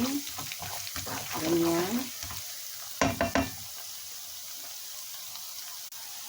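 Garlic sautés in a pan, starting as a busy sizzle that fades to a quieter steady hiss. Someone speaks over the first part, and a few utensil scrapes sound near the middle.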